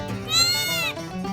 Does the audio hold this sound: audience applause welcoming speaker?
no